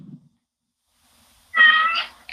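A cat gives one clear, close meow of about half a second, preceded by a faint low murmur and followed by a brief noise.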